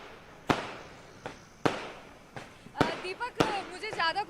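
Firecrackers and fireworks crack sharply at a street celebration in Ayodhya marking the Ram Mandir consecration, with about six distinct bangs at uneven intervals, some near and some farther off, and excited voices and crowd noise rising after the later bursts.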